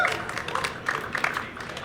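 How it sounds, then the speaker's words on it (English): Dense, continuous applause from an audience at a cannabis industry conference panel on climate and irrigation technology at MjBizCon, steady and moderately loud, with many overlapping claps blending into a wash. "Round of applause for our panelists"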